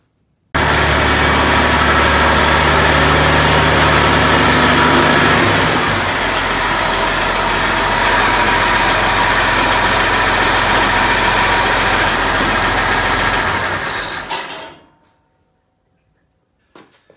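An engine, just fired up after a rusty fuel tank repair and new fuel line and pump fitting, runs loud and close at a steady idle, dips slightly in pitch partway through, then is shut off and falls silent.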